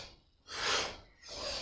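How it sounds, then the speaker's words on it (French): Powerful, rapid breathing during a Kundalini yoga exercise, two strong forceful breaths in close succession, heard near and alone with no speech. "Respiration puissante."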